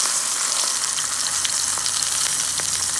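A birria taco dipped on both sides, then set into hot oil in a pan, giving a steady, close, even sizzle of frying with small crackles and no talk over it.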